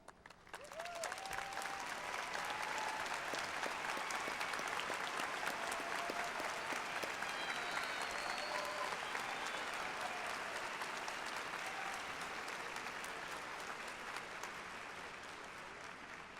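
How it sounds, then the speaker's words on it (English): A graduation audience applauding parents in a large hall, dense, steady clapping that swells in quickly, holds for many seconds and slowly tapers, with a few faint voices beneath. "give them a big round of applause"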